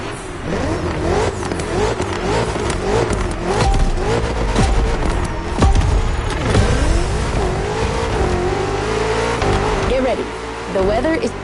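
A BMW M car engine drones and revs in The Crew Motorfest racing game, a loud, steady drive with rising and falling engine pitch throughout, while a voice talks over it.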